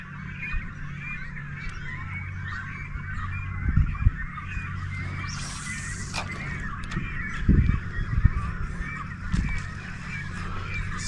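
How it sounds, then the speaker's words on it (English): Flock of birds, likely geese, honking over saltwater near Pine Island during a kayak fishing trip, a dense, continuous chorus of calls under intermittent bumps and splashes. "So many birds."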